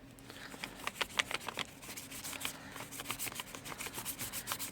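A brush spreads gel medium across an art journal page for a mixed media textured background, making soft, close scratchy rubbing strokes in a quick uneven rhythm.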